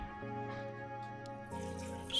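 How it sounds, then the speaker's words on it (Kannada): Water pours from a small vessel into a cooking pot for dill leaf sambar, a quiet, close, hollow trickle with a ringing pitch that carries on briefly before picking up again near the end. "ಸೊ ನಾನು ಈಗ 1 ಚರಿಗೆ ನೀರು ಹಾಕ್ತಿದ್ದೀನಿ."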